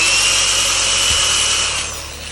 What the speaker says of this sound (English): So I'm going to pre-drill a very small little hole up top.